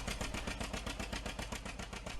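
A custom in-game engine sound for a John Deere 730 diesel tractor idles with a steady, rapid chugging pulse, close and even throughout, with no voices.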